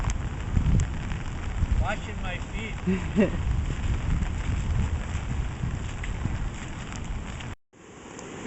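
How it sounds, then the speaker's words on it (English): Heavy rain pours during a June rainstorm, with water rushing down a hill into a creek, a dense continuous hiss with wind buffeting the microphone, while a person speaks briefly. "From all the rain."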